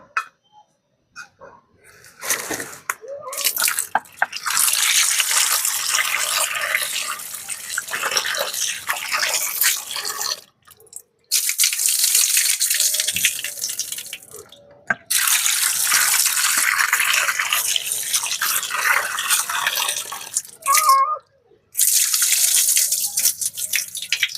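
Chicken liver being washed under a running kitchen tap, water streaming hard in several long bursts separated by brief pauses, with splashing and handling sounds between them.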